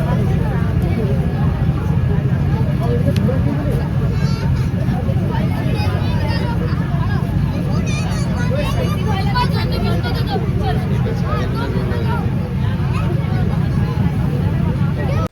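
A motor launch ferry crosses the river from Mayapur toward Nabadwip on a cold, foggy day, its engine droning steadily and low throughout under a constant hubbub of crowd chatter from passengers aboard.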